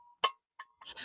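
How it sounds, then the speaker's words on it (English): A small hand bell rings in three short, bright strikes spaced apart, each decaying quickly, clear and close in a quiet room. "ring the bell. Ring the bell."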